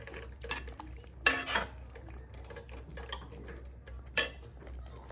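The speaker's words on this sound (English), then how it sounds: "Stir that all around." A spoon stirring chicken tikka masala sauce in a pot, a few sharp clanks and scrapes against the metal with quieter stirring in between, fairly close.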